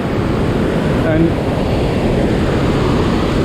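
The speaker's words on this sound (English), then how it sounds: "The sound of this water is so high, I don't know whether my voice will be audible in this video." Thundering roar of the Rhine Falls waterfall at Schaffhausen, Switzerland, a loud, steady broadband wash heard right beside the cascade, with a voice speaking faintly beneath the torrent.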